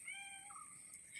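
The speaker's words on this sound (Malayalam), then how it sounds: "അമ്മ എവിടെ പോയാലും അമ്മയുടെ കൂടെ ഈ പൂച്ച ഉണ്ടാകും" A cat gives a few faint, drawn-out meows at a distance in an otherwise quiet outdoor setting near a house.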